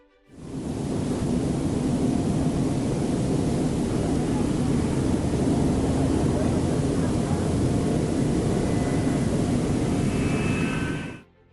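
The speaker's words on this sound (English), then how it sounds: "under the command of test pilot Roy Pryor, the aircraft equipped with the J-79 engine embarked on its maiden flight." F-4 Phantom jet fitted with J-79 engines on its maiden flight at a dry lake, heard as a loud, steady, broadband jet roar that holds for about eleven seconds and then stops abruptly, with no voices.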